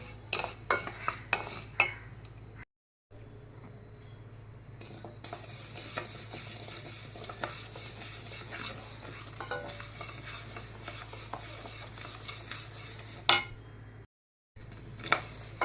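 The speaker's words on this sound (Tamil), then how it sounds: "கொஞ்சம் சிவக்க வறுத்தா போதும்." Rice dry-roasts in a pan until lightly puffed and whitened, with a low crackling rustle and repeated spoon scrapes and clinks against the metal, close by, pausing briefly twice, with no speech.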